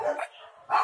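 A dog gives two short, sharp barks close by, separated by a brief pause.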